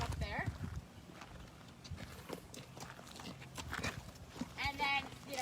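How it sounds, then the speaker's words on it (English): Horses are jogged up the day after a competition, their hooves clip-clopping at a walking pace amid talking voices and other yard noise. "what we always do is we jog up the horses the next day"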